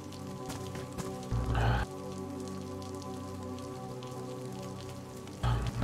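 Rain falling in a roleplay game, a steady hiss of drops over a low droning hum, briefly swelling twice with louder bursts of rumble.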